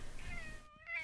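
A cat meows in a video game, two short rising-and-falling calls in quick succession, faint and alone.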